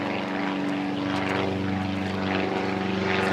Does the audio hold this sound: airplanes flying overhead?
yes